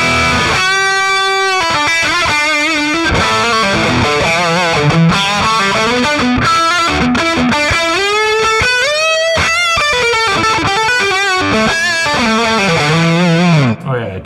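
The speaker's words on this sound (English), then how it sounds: "Tons of gain for some cool lead tones." Distorted electric guitar lead through a VOX Cambridge50 amp with heavy gain, sustained bending notes and fast melodic runs, loud and continuous with no talking.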